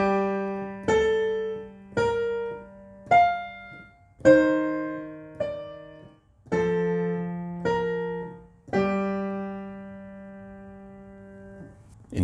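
A piano plays part of the chorus of a song as slow, evenly spaced single notes and chords over a sustained low note, each struck note ringing out before the next, quiet and close with the last note fading away.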